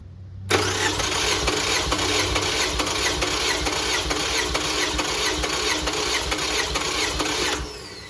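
A Toyota Camry engine, one that burns oil, cranks steadily for several seconds during a cylinder compression test, with a loud, even starter whir and no voices.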